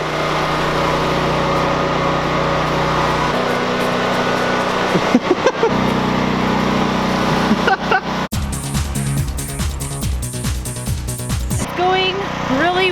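A power planer runs on timber for a timber frame house: a loud motor whine, steady at first, then broken into choppy repeated bursts as passes start and stop.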